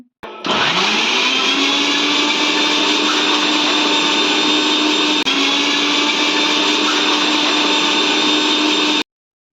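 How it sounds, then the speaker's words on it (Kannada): A mixer grinder grinds dry coconut at full speed for several seconds, a loud, steady high-pitched motor drone that starts abruptly and stops cleanly. "ಇದನ್ನು ಒಂದು ಮಿಕ್ಸರಿ ಜಾರಿಗೆ ಹಾಕ್ಕೊಂಡು ಇದನ್ನು ಸರಿ ತರಿಯಾಗಿ ರುಬ್ಕೋಬೇಕು"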